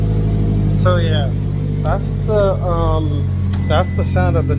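A 2022 Subaru VB WRX fitted with a new full catback exhaust idles after a cold start in a parking lot, a loud, steady low engine drone running beneath someone speaking.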